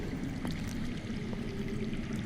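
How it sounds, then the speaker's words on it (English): Running water flowing underground in a video game scene, a steady, muffled rushing and trickling that continues evenly throughout without any voices. "That's water. I hear water. From underground."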